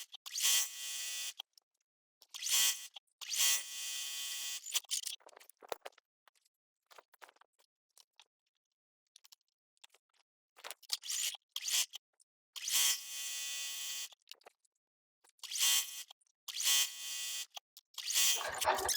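A sewing machine back-stitches along the outer borders of a baby quilt top, its motor buzzing in about seven short, loud bursts separated by silent pauses, with faint handling noises between runs.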